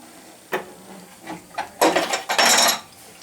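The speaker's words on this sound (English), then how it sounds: "But I need to loosen one of these so that I don't have an airlock." A wrench loosening a pipe fitting on a residential water heater, a few scraping metallic turns and rubs in short bursts, close and moderately loud, no talk.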